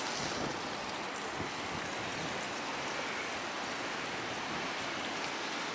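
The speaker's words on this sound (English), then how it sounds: "That's a really cool fountain right there." Water from a fountain rushes steadily beside a creek at a nature preserve in Burton, Michigan, a constant broadband splashing wash that holds the same level throughout, with no voices.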